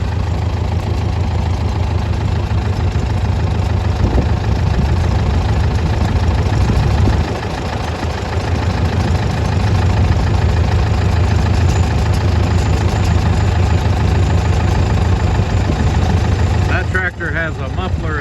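A tractor fitted with a muffler eliminator runs while baling hay in a field, its engine a loud, continuous, throaty rumble with a knocking pulse that dips briefly partway through before carrying on.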